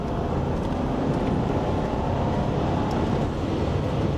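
A 2022 Dacia Jogger accelerates hard in third gear at about 3000 RPM, giving a steady, loud engine and road roar that holds evenly throughout with no voices.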